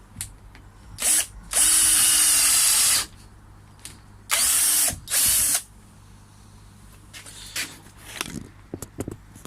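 A power drill boring small pilot holes into the corners of a koi pond frame, two loud sustained bursts of whining drilling with short pauses and clattering handling noises between them.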